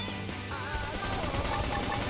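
Rapid gunfire bursts in the sci-fi action game Xenoblade Chronicles X, crackling densely over a steady bed of battle music and effects, loud and continuous without letting up.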